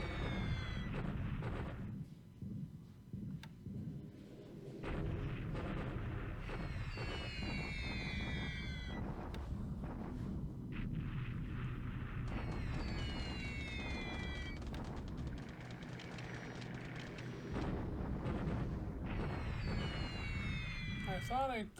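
Artillery bombardment rages in a World War II strategy game pitting Japan against the Allies in 1942, a dense, continuous barrage of deep booms and rumbling blasts, with whistling shells arcing over the din throughout.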